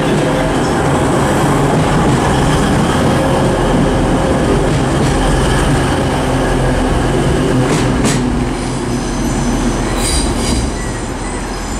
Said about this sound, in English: arriving now is the 1505 Transpennine Express service to Middlesbrough from Manchester Airport